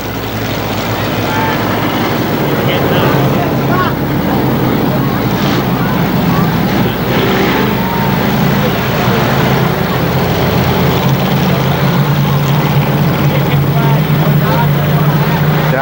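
Race cars circle KilKare Speedway in a continuous loud engine drone that swells and fades as the pack passes, with a commentator talking throughout.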